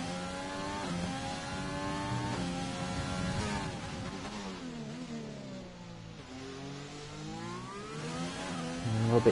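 A Formula 1 car in the racing game F1 2020 screams through a flying lap at Bahrain, its engine note climbing and dropping with upshifts and a downshifting lift into a corner, loud and continuous.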